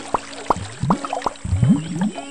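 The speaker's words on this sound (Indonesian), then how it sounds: "Ada gelembung air di tengah danau itu." Cartoon water bubbles rise in the middle of a lake, a quick run of bubbly pops and gurgles with wobbling, upward-sliding tones, loud and close with no voices.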